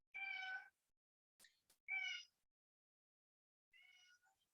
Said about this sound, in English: And that's a stray cat.